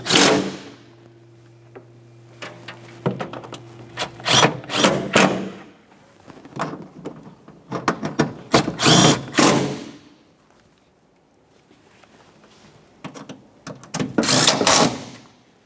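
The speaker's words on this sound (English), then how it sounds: "Let's tighten those 10mm bolts." Several 10mm bolts being tightened on a 2011-2020 Toyota Sienna 3.5L V6 engine: repeated loud bursts of tool whirring and clicking, separated by quiet pauses, close up with no talking.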